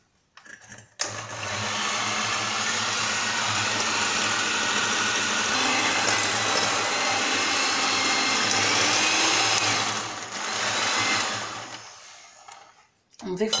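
An electric mixer beats four eggs with sugar, making a loud, steady motorised whirr that holds for about ten seconds, dips briefly, surges again and then cuts off.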